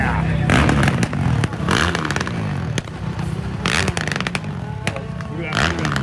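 A blue and white Polaris snow bike revs at a snocross race, its engine rising and falling in loud, close bursts with crowd noise and people talking over it.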